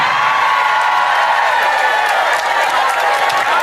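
A sermon audience claps and cheers loudly and continuously, with shouts and whoops mixed into a dense, steady roar of applause.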